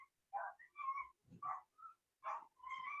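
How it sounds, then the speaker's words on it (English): A dog nearby yips and whines in short bursts, a series of high, thin barks with brief pauses between them. "My neighbor's dog wanted to go outside, but it is not time yet."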